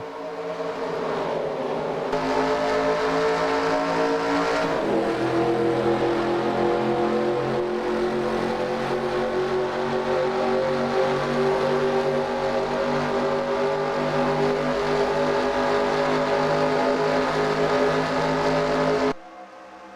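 A field of race cars at the Fort Wayne 125 accelerates at the green flag start, a loud, dense engine roar that rises in pitch as the pack pulls away and holds steady until it cuts off near the end.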